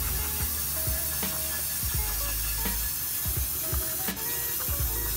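Aerosol brake cleaner hisses in steady, fairly loud spraying over engine parts from a Honda B17A1 motor during an outdoor teardown, with a few clicks and knocks from handling.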